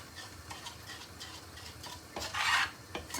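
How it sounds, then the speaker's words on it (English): Cold milk is stirred into a chicken lasagna white sauce in a pan, making soft, intermittent scraping and stirring sounds with one brief louder scrape, quiet and close, with no voices. "So slow, first add little and just mix it."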